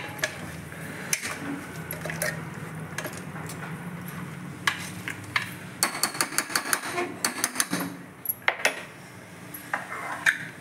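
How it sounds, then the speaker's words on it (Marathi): Toor dal being stirred into a pot for dal gosht, with repeated scraping and clinking of a utensil against the metal vessel, irregular and close, growing busier toward the end. "तुरीची डाळ घेतली, ती आता मिक्स करून घेते मी"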